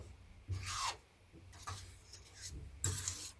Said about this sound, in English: if you want to grate your nutmeg, you can grate it